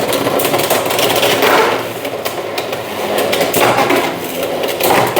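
Beyblade X spinning tops clash in a stadium battle, giving a fast, busy run of rattling metallic and plastic hits and scrapes, loud and close, with no pauses.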